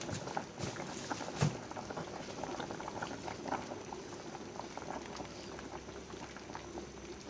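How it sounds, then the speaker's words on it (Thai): Northern Thai khanom jeen nam ngiao broth boils steadily in a pot as pre-steamed fish balls go in, a continuous bubbling simmer with a few soft splashes and knocks, close and even throughout with no talking. "อันนี้เราจะใส่ลูกชิ้นไปนะครับ ลูกชิ้นปลา"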